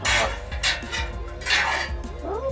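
A pilsner mash is stirred in a brew pot, giving several close clunking and scraping knocks of a paddle against the pot at an uneven pace.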